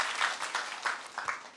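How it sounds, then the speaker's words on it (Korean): A small group of high-school students in a lecture claps briefly, a few uneven bursts of applause that fade quickly. "박수 한번 주세요."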